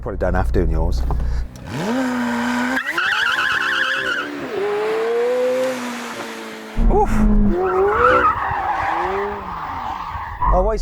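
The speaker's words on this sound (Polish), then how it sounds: "Rozgrzeję opony." A McLaren 750S spins to warm its tyres, with loud, sustained tyre squeal and screeching that rises and falls in pitch over the engine, close by, amid a few brief voices.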